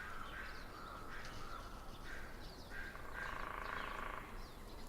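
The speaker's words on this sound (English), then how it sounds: "There's a lot of birds in this." Crows caw and other birds call over a dense, steady hiss in a forest night ambience, with frogs faintly present beneath the calls.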